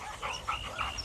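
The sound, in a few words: dog Sadie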